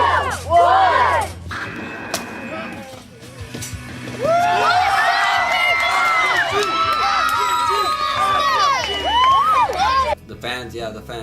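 A big crowd at a backyard wrestling show cheers and shouts, with many overlapping excited voices and whoops sustained loudly for several seconds after a short burst at the start.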